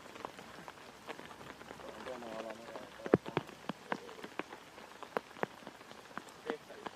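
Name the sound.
rain falling on a disc golf course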